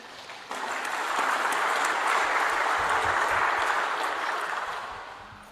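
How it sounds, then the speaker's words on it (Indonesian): Applause from a large crowd at a political party declaration rally rises abruptly to a dense, sustained roar of clapping and holds for several seconds before beginning to fade. "Tepuk tangan untuk kita semua."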